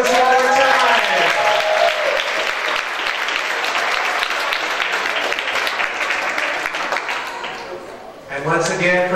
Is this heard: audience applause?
yes